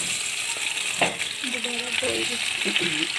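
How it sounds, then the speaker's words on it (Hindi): Sliced potatoes fry in hot ghee in a karahi with a loud, steady, close hiss and crackle that runs the whole time, while a voice talks over it. "ये सारे आलू हमने मुनासिब गर्म घी में आलू डाल दिए"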